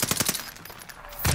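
Gunfire in Call of Duty: Modern Warfare: a rapid automatic burst of shots at the start, a brief lull, then another heavy burst near the end, loud and close.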